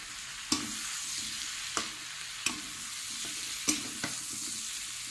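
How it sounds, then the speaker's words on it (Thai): Zucchini and carrot stir-fry in hot oil with a steady sizzle, broken by several sharp scrapes and clanks of a utensil tossing the vegetables in the pan. "ทเป็นไปผัดน้ำมันร้อนๆก่อนอย่าเพิ่งรีบใส่น้ำนะคะ"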